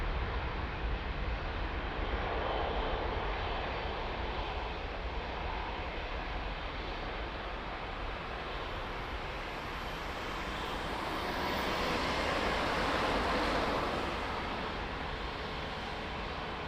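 An airliner takes off at Lisbon Airport with a sustained, broad jet roar that swells slightly toward the end and never fades out.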